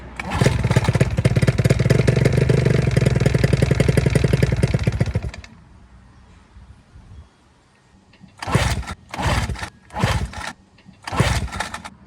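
Johnson outboard motor firing on starting fluid sprayed into the carburetor, a loud rapid-firing engine run for about five seconds that cuts off, followed by several short bursts of revving or restart attempts.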